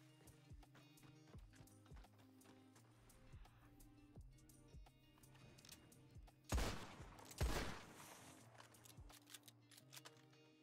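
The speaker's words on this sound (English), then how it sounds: "That many gunshots though." Video game gunfire: rapid bursts crack repeatedly at a distance, with two louder, heavier blasts in the middle, fairly quiet overall.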